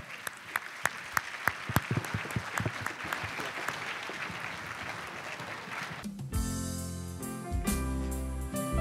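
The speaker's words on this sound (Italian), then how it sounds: "Eccoli qua, un grande applauso!" Applause from a theatre audience at a Venetian song festival in Mestre, opening with a few sharp claps that swell into dense, sustained clapping before music starts loud at the end.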